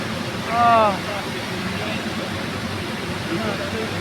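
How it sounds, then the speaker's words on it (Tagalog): Water rushes into a canal lock on the Great Lakes in a steady, broad roar that fills the whole clip, with a brief voice speaking near the start. "Lalagyan dito ng tubig, tayo naman yung maangat."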